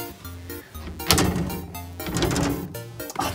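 A door in a newly built high-tech house is opened with a few clunks and a sliding rattle, followed by a sustained rushing sound, moderately close with no talking.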